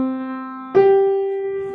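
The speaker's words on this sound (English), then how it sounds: "So a C to a G sounds like this" Two sustained tones sound in succession, a low C held, then a higher G a fifth above, clear and alone.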